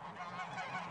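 Domestic farmyard geese honk continuously in a dense, overlapping chorus, a steady close flock with no voices among them.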